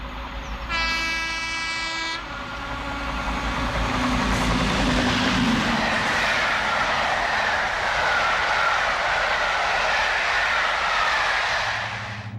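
A loud Deltic diesel locomotive, with 36 two-stroke pistons in a triple V, roars close by, a brief horn blast near the start, then a steady heavy engine drone that builds and holds before easing off.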